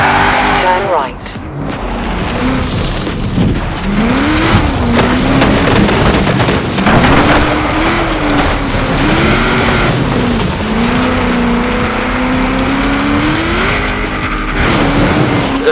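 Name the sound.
race car driving in Forza Horizon 4 video game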